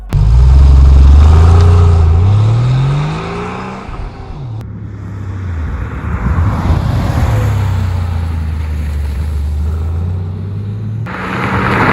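Porsche Carrera 4S 993 with a 3.6-liter flat-six engine and Vario RAM, in the video game Porsche Unleashed, revs loudly and climbs through the gears, with a brief lift before accelerating again alone.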